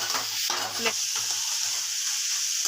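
A spice mixture for a chicken curry fries and sizzles in a pan while a spoon scrapes and stirs it in steady strokes, close and without talk.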